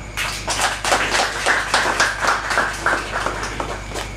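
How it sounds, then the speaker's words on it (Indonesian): A small group claps at a Javanese shadow-puppet performance in a joglo hall, with fairly close, slightly loose rhythmic claps about three per second, fairly loud over a low steady hum, with no talking. "Tepuk tangan."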